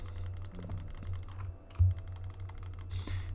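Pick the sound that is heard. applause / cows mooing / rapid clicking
rapid clicking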